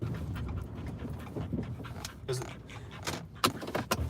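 A cur dog, also a coonhound kept as a house dog, pants rapidly and steadily close by, with scattered clicks and rustles suggesting a car at a driveway.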